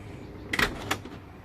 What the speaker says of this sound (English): Push the button, the door doesn't get stuck, closes right up